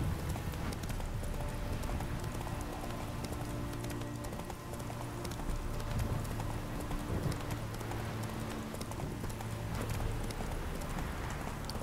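Roach the horse gallops in The Witcher 3: Hearts of Stone, her hooves a steady, fairly close clip-clop over a low rumble of game ambience for the whole stretch, with no talk.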